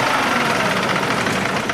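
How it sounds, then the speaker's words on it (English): Sampled bus engine winding down, a rough low rumbling idle with knocking pulses that holds at a fairly loud level for under two seconds, with no voices. "hold the key down, you get the full engine die"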